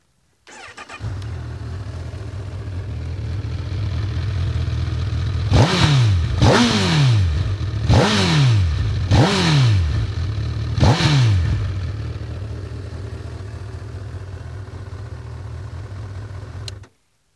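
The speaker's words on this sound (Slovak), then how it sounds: "Dali si záležať aj na výfuku páni z Hondy, pretože zastúdená to má naozaj taký ešte výrazne plechový zvuk" A 2018 Honda CB1000R motorcycle engine starts up with a cold, metallic exhaust note, then settles into a steady, close idle punctuated by five sharp throttle blips before running on evenly and cutting off, with no talking.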